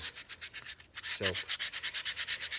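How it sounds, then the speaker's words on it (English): Steady, rhythmic back-and-forth sanding strokes by hand, a dry rubbing rasp repeating about four times a second, close and fairly quiet. "So lots of sanding to do on little projects like this."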